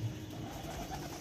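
Pigeons sitting outside give soft, low cooing, faint and brief against quiet background noise.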